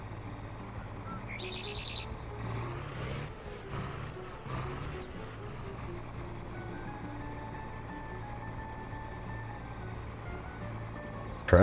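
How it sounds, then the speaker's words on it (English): Steady road traffic rumbles through a small-town downtown, with vehicles and trucks passing at moderate distance, a low continuous engine drone under brief higher tones, and no talking. "Traffic is never ending for being such a small town."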